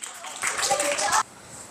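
Children in a school PE class on a distance-throwing lesson clap together for about a second, a dense burst of claps that stops abruptly, with faint room noise after.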